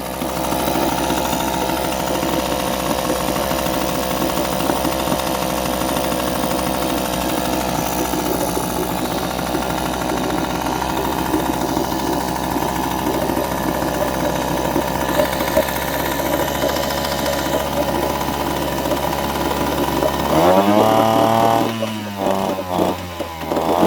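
A Mariner 3.3 HP outboard motor runs steadily and loudly throughout with a constant buzzing drone, then the pitch sweeps and surges near the end as it revs up before settling.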